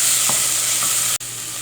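Tomato paste cooks in a pan as the base for a brown sauce, giving a steady, close sizzle with a brief scrape of stirring and a momentary dropout near the end.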